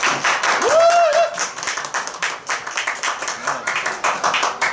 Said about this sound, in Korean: 박수 한번 크게 치고 시작했으면 좋겠습니다